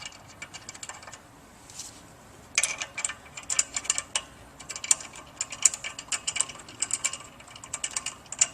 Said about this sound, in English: Just begin inserting the bolts.